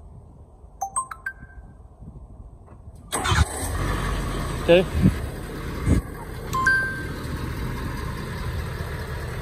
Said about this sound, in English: I'm gonna go ahead and remote start it.